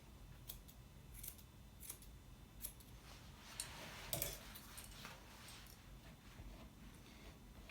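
Quiet, crisp snips of curved scissors cutting a Havanese dog's hair, a series of short irregular clicks close by.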